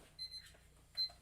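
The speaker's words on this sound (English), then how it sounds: "My alarm's going off." Alarm going off in a room, two short electronic chirping bursts about three-quarters of a second apart, faint and distant over a low hum.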